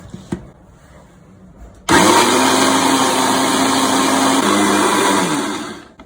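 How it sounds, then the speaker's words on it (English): An electric grinder whirs suddenly into loud motion, churning chocolate Oreo cupcake batter with vanilla essence in a steady high whine for several seconds before spinning down. "And then we are going to grind it once again with these ingredients."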